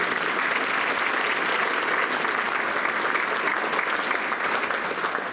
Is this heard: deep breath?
no